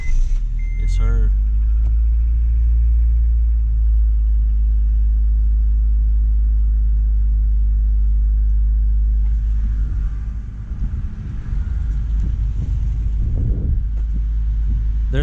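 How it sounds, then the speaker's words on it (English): A Honda Civic engine cranks briefly and then settles into a steady low idle after spark plug seal replacement, heard close up. Revs rise toward the end. "turn the key and hopefully it starts back up again"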